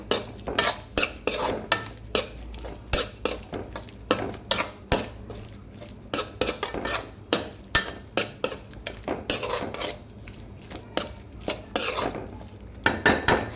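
A utensil scrapes and knocks rhythmically against a pan as ivy gourd is stirred with onion and chili masala, producing regular metallic clinks and scraping strokes throughout, close and fairly loud with no talking.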